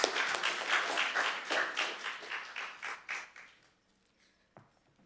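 An audience claps for a poet coming to the stage at a literary read-out, with steady crowd applause that thins and fades out over a few seconds, leaving quiet and a single late tap.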